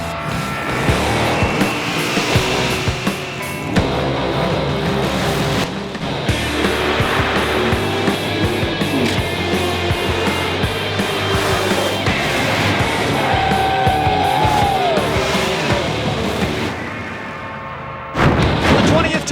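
Top alcohol dragsters and top alcohol funny cars roar down the strip during final eliminations at an NHRA drag race in Houston, Texas, a loud, sustained engine blast with tire squeal and crowd and announcer voices mixed underneath.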